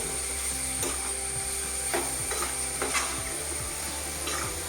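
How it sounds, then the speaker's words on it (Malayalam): Chili powder stirred into hot oil in a pan: a steady low sizzle with a few soft scraping strokes spaced about a second apart, close and even in level, with no voices. "നമ്മൾ മുളക് പൊടി ഒന്ന് ഇളക്കട്ടെ ആ എണ്ണയിൽ"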